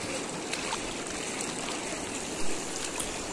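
Stream water flowing steadily at Siseri, a close, continuous rushing trickle with a brief splash near the middle and no voices.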